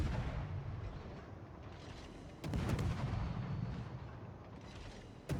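Warship guns firing in World of Warships: a deep heavy salvo booms loud and close partway through, followed by another at the end, over a constant low rumble of engine and sea.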